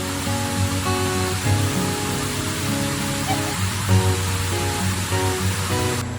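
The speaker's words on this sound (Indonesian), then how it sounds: "menelusuri air terjun Parangloe" Parangloe waterfall in Gowa pours in a steady, dense rush of water, a constant broadband roar heard up close without any talk.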